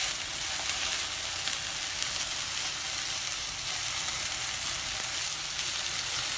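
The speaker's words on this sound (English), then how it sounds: "Slow down the flame and keep stirring like this in between." Okra (bhindi) stir-frying over a lowered flame in a pan, producing a steady, continuous sizzle with faint stirring, close and even throughout without any speech.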